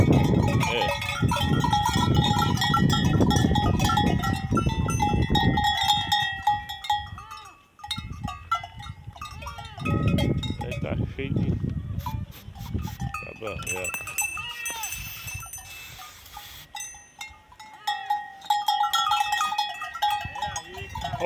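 Goats being herded on a farm in the Brazilian caatinga bleat repeatedly, mixed with the clank of a cowbell and stretches of loud Portuguese conversation between people handling the animals.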